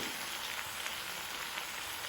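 Onions frying in a pan with chopped tomatoes added, cooking for a village-style prawn roast; a close, steady, even sizzle hisses throughout with no talking.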